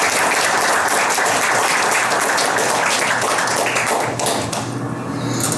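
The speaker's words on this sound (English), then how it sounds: "A round of applause for Louis Arthur." Dense, loud applause from an audience at a veterans' event honoring homeless military veterans, welcoming Louis Arthur, founder of Veterans on Patrol; steady clapping fills the whole stretch and eases slightly near the end.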